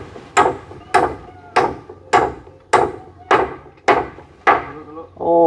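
Hammer blows drive small nails into wood on a rural building job, eight sharp, evenly spaced strikes ringing out close and loud, with a brief murmur of voices at the end.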